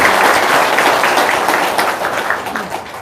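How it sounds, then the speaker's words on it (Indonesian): An audience at an evening seminar gives loud, dense applause that fills the room, then tapers slightly toward the end. "Tepuk tangan dulu dong,"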